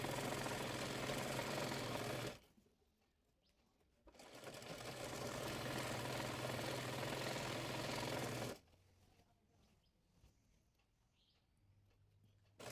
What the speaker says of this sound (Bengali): এরপর প্লাজোটির মুহুরি 1 ইঞ্চি মুড়িয়ে সেলাই করে নেব।